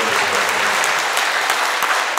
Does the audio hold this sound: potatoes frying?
no